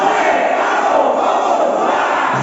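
A large crowd at a motivational event shouts together in a dense, continuous roar, a sustained loud group chant filling the whole moment without pause.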